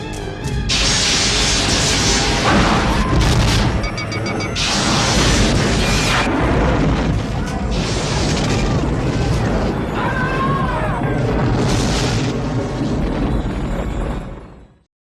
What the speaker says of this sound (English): Lock phasers on target.